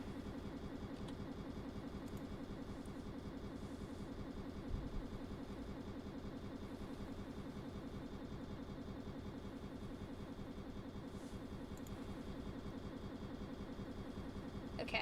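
A boat engine in the Stormworks game runs in reverse under power, a faint, steady mechanical drone with a regular pulsing throb that continues evenly for the full duration without talk.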